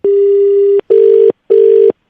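A telephone rings during a phone call, loud and close: one long tone followed by two shorter tones with short gaps between them, and no talk.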